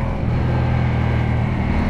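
A 2021 Ducati Diavel 1260 S motorcycle engine running, a loud, close, steady low rumble with a throbbing tone, alone with no talk.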